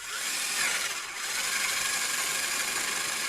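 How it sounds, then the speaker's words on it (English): A power drill drives a 1/2 inch spade bit through a workpiece during an off-grid solar installation, a steady loud high-pitched whir with grinding cutting noise, continuous and close, with no voices. "I'm going to drill on the printing side so that I'm always straight."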